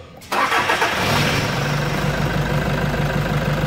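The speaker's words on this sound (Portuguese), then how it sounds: "Motor funcionando redondinho." A Toyota Hilux diesel engine cranks and catches after an injector replacement, then settles into a steady, even idle with a low rumble, close and loud after a brief quiet start.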